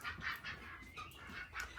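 Male ducks on a farm, kept apart from the females, give a run of rough, rhythmic quacking calls. They sound fairly close, repeating several times over a steady outdoor background with no one talking.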